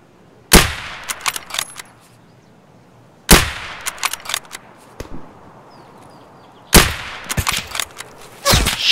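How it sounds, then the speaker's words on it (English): Gunfire in the Escape From Tarkov video game: three sharp, loud shots spaced a few seconds apart, each followed by a tail of smaller clatters and echoes, with no talk over them. "Other shooting."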